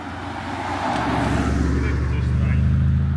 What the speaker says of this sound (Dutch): Kijk uit, er komt nog een auto aan